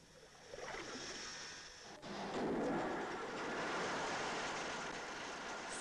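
Ship engines start up aboard a Soviet vessel, a low mechanical rumble swelling from quiet into a steady, continuous drone that holds at moderate volume with no talk over it.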